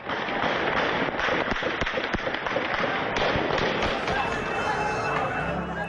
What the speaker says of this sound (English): they appear to show how heavy the gunfire has been at times.